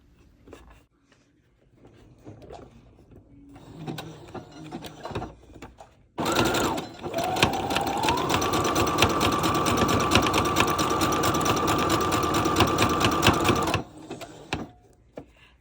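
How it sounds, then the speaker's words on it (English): A sewing machine stitches a zigzag over an existing zigzag while making fabric cookie-shaped pattern weights, running in one steady, loud, rapid burst of about eight seconds after quiet handling noises. "when you sew the zigzag stitch, you're going around the same zigzag stitch you just did"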